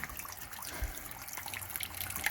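Water draining from an old water heater during replacement, a continuous trickling, splashing flow that stays fairly steady and moderately loud throughout.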